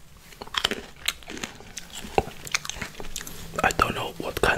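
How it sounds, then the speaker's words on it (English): Crunchy chewing and biting of Thai mixed pickled fruits with a sauce and red pepper bits, close up, with irregular wet crunches and mouth sounds throughout and a crunchier burst near the end. "But now I'm eating the pickle as a snack."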